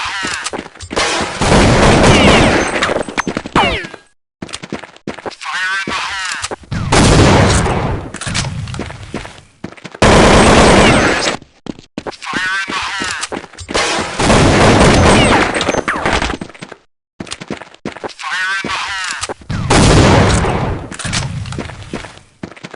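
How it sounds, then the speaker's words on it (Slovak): Gunfire in a tactical shooter video game, loud, close bursts of shots and fusillades in several long stretches separated by short gaps, with booming impacts mixed in. "hneď začne strieľať cez smoke"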